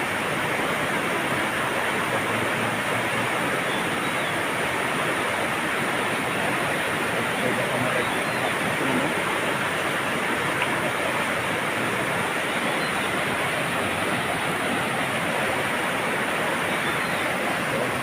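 A flooded river in the mountains rushes past loudly, a steady, dense roar of churning water that fills the whole stretch without pause or change.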